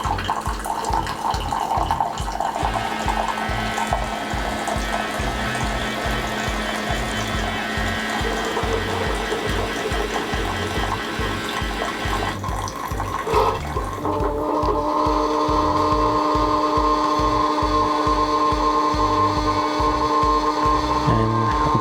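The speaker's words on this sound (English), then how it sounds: "you can choose the smaller cup just to flush the lines with hot water" A Keurig K-Compact coffee maker pumps hot water through its lines, a steady pulsing gurgle and hum with rhythmic pump throbs that shift in pitch partway through and continue without pause.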